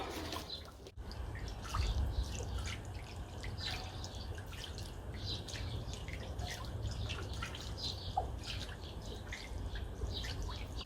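Water drains out of an old propane tank being turned into a log burner, a steady close trickle and patter with scattered drips that carries on unbroken.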